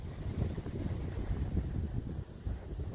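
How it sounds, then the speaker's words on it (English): Strong wind buffets a tent at a winter campsite on a snowy hike, a steady, loud roar with gusty low rumble throughout and no talking. "Wow, that wind is really picking up."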